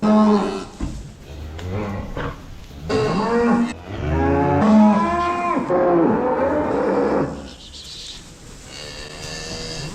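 Several cows mooing and lowing loudly nearby, long overlapping calls one after another, with the herd shuffling in the background.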